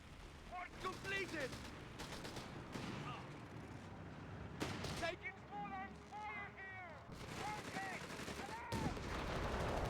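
Gunfire and bombardment in a WWII strategy game: repeated machine-gun bursts, heavy shell impacts and Stuka dive-bombing rumble in layered, mid-distance volleys, with a commentator talking over the battle.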